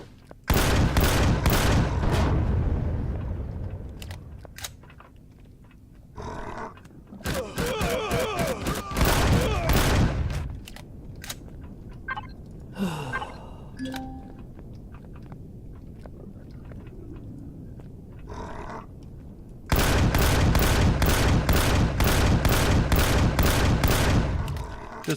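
Bursts of rapid gunfire from the Empyrion: Galactic Survival video game, loud volleys at the start and again at the end, with scattered single shots and quieter game noises between them.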